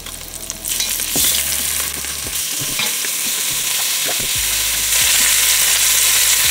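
Beef neck bones frying in oil in a pan give a loud, dense, continuous sizzle close by, with occasional clacks of a utensil and no talk.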